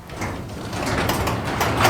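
A sectional garage door rolling open in a home garage, a continuous close mechanical rumble with faint rattling and clicking from the panels and tracks that builds slightly over two seconds.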